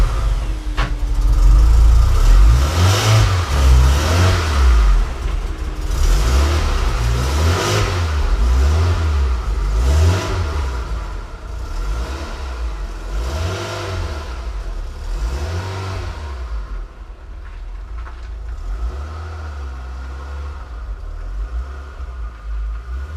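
A 1991 Toyota Celica GT engine revs repeatedly in strong, rhythmic surges while the car pulls out onto the road, close and loud, with no talking over it.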